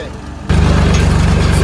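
A heavy tractor engine rumbles up abruptly and keeps running with a low, steady chugging drone, loud and close, in a field.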